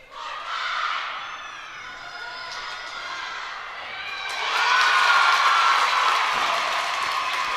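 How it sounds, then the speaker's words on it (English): Crowd cheering and applauding at a women's college acrobatics and tumbling meet between Quinnipiac and Long Island, a steady roar with whoops that swells louder and brighter in the second half after a synced tumbling pass. "The crowd is super happy with that pass"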